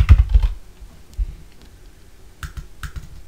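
Fingers tap out a password on a computer keyboard in short bursts of crisp keystrokes, loud at first, then sparse clicks and a final quick flurry, close up with no talking.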